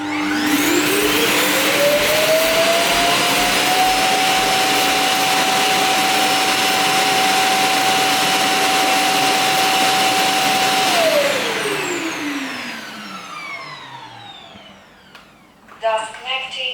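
A Lenovo T1 Pro robot vacuum's base self-empties the dust bin with a loud steady suction roar and a rising whine that holds, then winds down as the motor stops, followed by a few faint clicks.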